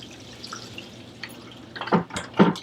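Water trickles and splashes into a Navien tankless water heater as its service valves are opened, faint at first, then building into a few louder gushing surges near the end, with no talking.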